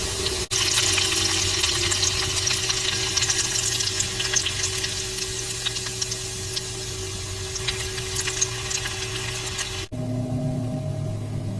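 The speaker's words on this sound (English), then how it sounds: "Place the bacon slices in the pan. Cook for 3 to 5 minutes on each side until crispy." Bacon slices fry in a pan for an American breakfast, a dense continuous sizzle and crackle with scattered pops, cutting off abruptly near the end to a quieter hum.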